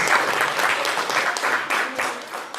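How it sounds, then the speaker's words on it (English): Audience applause at a public guest lecture, honoring the parents: a steady, dense patter of many hands clapping throughout, fairly close and sustained with slight swells, no talk over it. "please give applause to the"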